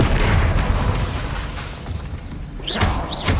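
Bombarda and Confringo explosion spells in Hogwarts Legacy go off as loud, continuous booming blasts with heavy low rumble, ending in sharp whooshing bursts.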